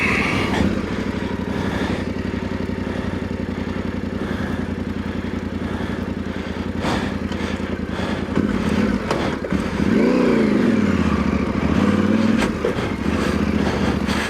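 A Yamaha Tenere 700 Extreme motorcycle rides an offroad rally trail, its engine chugging steadily and loudly with rattling clatter over rough ground, then surging as the throttle opens near the end.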